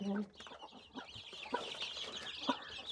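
A chicken clucking close by in a series of short, uneven clucks, with faint background noise and possible voices.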